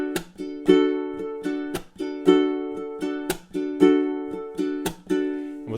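Ukulele strummed in a steady, spooky etude pattern, crisp repeated chords with sharp accented down-strokes, close and clear with no talking.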